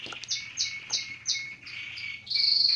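Birds chirp and sing outdoors in a string of bright, repeated calls, fairly close and clear, with an insect-like trill underneath and no talking.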